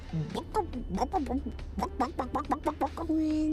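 A person's voice imitates a chicken, giving a rapid string of rhythmic clucks at close range, followed by a brief sustained tone at the end.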